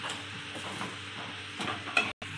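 Mustard oil poured into hot oil in a pan gives a steady, soft sizzle with faint stirring scrapes, quiet and close, with one sharper clink near the end.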